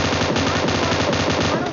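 Rapid automatic gunfire in the battle royale game PUBG, a dense, loud, even burst of shots repeating throughout with no gaps.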